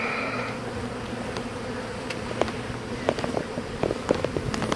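Honeybees from a newly received, populated hive swarm close around an opened colony during a frame inspection. The buzzing is continuous and droning, with light clicks and knocks from the frames being handled.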